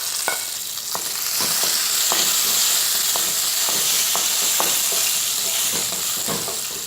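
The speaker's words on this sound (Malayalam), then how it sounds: "ഇതെല്ലാം കൂടെ ചേർത്തൊന്ന് ഇളക്കിയ ശേഷം അതിലേക്ക് എടുത്ത് വെച്ചിട്ടുള്ള വറ്റൽമുളകും കറിവേപ്പിൻ്റെ ഇലയും ചേർത്ത് കൊടുക്കുക." Dried red chillies and curry leaves frying in hot oil with urad and chana dal, a loud steady sizzle with scattered crackles and pops and occasional stirring scrapes, close up with no talking.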